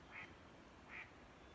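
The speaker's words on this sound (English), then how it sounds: "Ducks, maybe?" Ducks quack twice, faint and distant, at dawn on a backpacking trip in the Colorado wilderness near Maroon Bells and Snowmass, each short call standing above a quiet outdoor hush.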